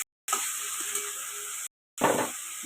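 Grated onion hits hot oil for potol korma and gives a loud, steady, close sizzle that breaks off briefly and then flares again with a fresh burst of frying hiss.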